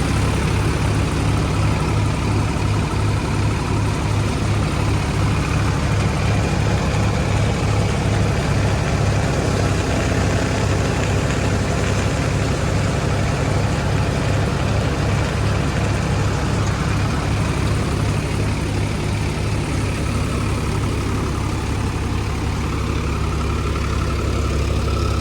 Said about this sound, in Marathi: बघा मित्रांनो, हा फार्मा ट्रॅक 60 आहे, पॉवर मॅक्स. हे 18 मॉडेल मित्रांनो, हे टॉप मॉडेल आहे.